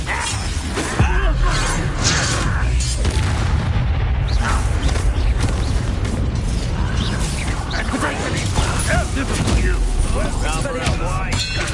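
Spell combat in the video game Hogwarts Legacy, with dense whooshing casts, booming impacts and shattering effects layered over music and in-game character dialogue.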